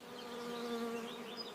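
Bees buzz steadily in a soft, continuous drone among blossoming apple trees in an orchard, with no voices.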